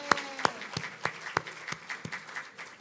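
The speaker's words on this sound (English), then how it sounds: "we have to clap for that" Sparse, distinct hand claps ring out in a synagogue during a Shabbat service, about eight separate sharp claps spaced irregularly with some faint scattered clapping behind, moderately quiet and with no talking.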